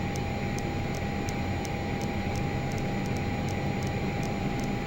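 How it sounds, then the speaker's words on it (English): The twin engines of a Learjet 35 run up in a flight simulator with a loud, steady roar and a thin sustained whine, while faint regular ticks repeat throughout. "Get them spooled up here. And we'll run up those engines now."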